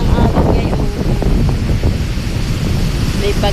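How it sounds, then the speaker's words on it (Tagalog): Big waves and strong wind along a coast during a typhoon, a continuous loud roar of surf and gusts buffeting the microphone, steady throughout with no clear breaks. "O, kita nyo po, lalaki na po ng alon guys."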